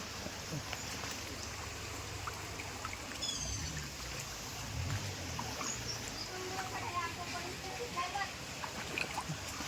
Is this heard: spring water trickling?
yes